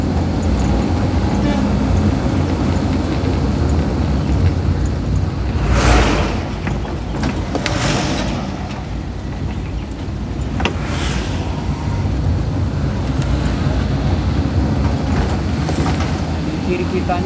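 Heavy traffic with trucks on the busy Trans Kalimantan road, a constant roadside rumble broken by several louder vehicles whooshing past at intervals.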